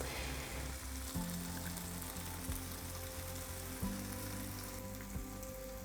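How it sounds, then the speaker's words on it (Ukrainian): Bacon strips and eggs fry on a hot grill with a steady, close crackling sizzle that holds through the whole stretch, and a faint low rhythmic hum sits underneath. "Викладаю на гриль бекон. Потрібно його обсмажити гарно з двох сторін."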